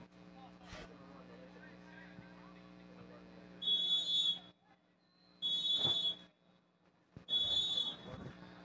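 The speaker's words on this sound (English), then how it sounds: "The 3 whistles go off." Three long, piercing referee whistle blasts ring out, evenly spaced, over the low murmur of an outdoor ultimate frisbee match between Malaysia's mixed team and Japan, with a commentator talking throughout.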